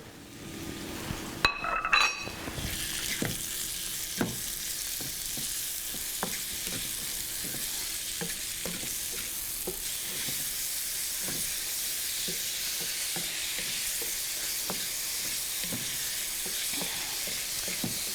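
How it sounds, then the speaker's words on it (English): Blueberries, raspberries and blackberries fry in butter and sugar in a hot pan with a steady, bright sizzle, broken by a few clinks of a utensil near the start. "Here, a nice little sizzle."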